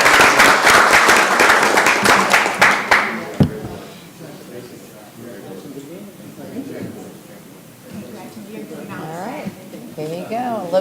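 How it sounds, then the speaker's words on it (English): Brief round of applause at a city council meeting, a few seconds of scattered clapping from the room that quickly stops, followed by quiet talking. "give them a round of applause"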